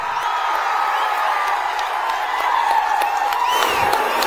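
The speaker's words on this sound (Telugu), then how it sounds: "గట్టిగా చప్పట్లు కూడా చెప్పండి" A large outdoor political rally crowd claps and cheers in a loud, steady roar with scattered whoops.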